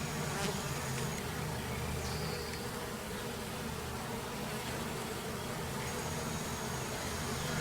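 Honey bees swarm around a hive entrance fitted with an entrance reducer, making a dense, steady buzzing drone that holds without a break, with a few closer bees zipping past.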